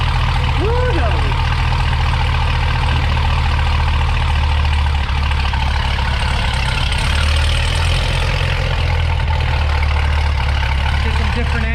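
A C7 Corvette V8 idling with cheap aftermarket headers, a loud steady low rumble that holds for the whole stretch, with people talking over it now and then.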